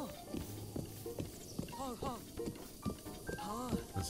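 Horse hooves clip-clop in Zelda: Breath of the Wild, a short run of game hoof steps and horse snorts mixed with someone talking over them throughout.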